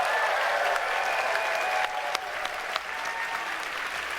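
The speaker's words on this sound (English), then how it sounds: "a big round of applause for our panelists." An audience claps steadily for a conference panel of game developers at QuakeCon 2018, a dense, even burst of applause that thins slightly toward the end with no talking over it.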